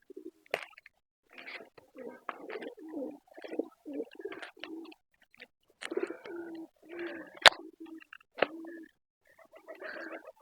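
Pigeons coo softly in repeated low throaty phrases, with occasional faint chirps and clicks between the calls, fairly close and calm.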